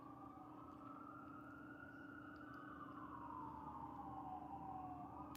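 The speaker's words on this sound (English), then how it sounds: "Sorry, I don't know if you can hear the sirens" A siren wails in the distance, its pitch slowly rising and falling over a steady low hum, faint but continuous.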